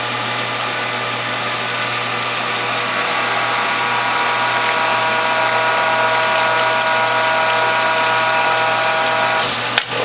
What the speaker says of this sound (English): So let's press those, and when you get juice flow, advance it all the way.